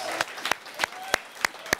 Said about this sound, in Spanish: Fuerte el aplauso para Ari Brickman aquí en Noche Libre.